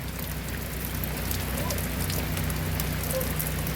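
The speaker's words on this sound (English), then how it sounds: "then it just started to downpour" Heavy rain pours down in a steady, dense hiss that fills the whole stretch, with a low continuous hum running underneath and no voices.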